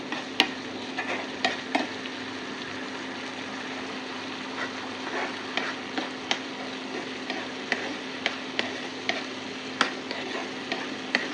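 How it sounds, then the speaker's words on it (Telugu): Dal with tamarind in a pot in a home kitchen, a soft steady simmer with faint bubbling and scattered small ticks and clicks, quiet and continuous with no voices. "మరిగిద్దాం, చింతపండు పచ్చి వాసన లేకుండా"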